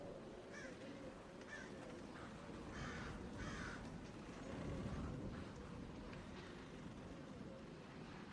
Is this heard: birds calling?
yes